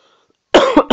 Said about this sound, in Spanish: justamente cuando empiezo a grabar me empieza a dar tos